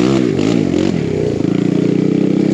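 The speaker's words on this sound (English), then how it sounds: "He's on a two-stroke this time." An older two-stroke KTM 250SX dirt bike engine revs loud and close, its pitch rising and falling in quick blips before settling into a steady buzzing run.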